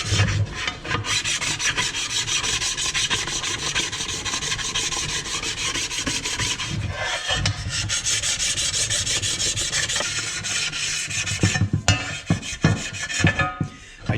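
Old gasket material is scraped and filed off the surface of an Arctic Cat 650H1 wet clutch cover, a loud, continuous close-up rasping with harsh back-and-forth strokes and a few metallic clicks near the end.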